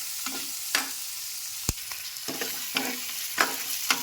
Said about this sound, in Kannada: ಮೂರು ಲವಂಗ ಸ್ವಲ್ಪ ಚಕ್ಕೆ ಇದು ಚೆನ್ನಾಗಿ ಹುರ್ಕೊಳ್ಳಿ